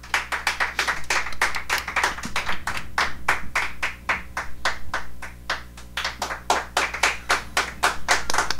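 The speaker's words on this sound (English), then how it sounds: "I think that's an encore applause right there" Applause for a performer on a radio show comes from a small, close group, sounding as distinct, rhythmic claps that keep a steady beat throughout, like a crowd clapping in time for an encore.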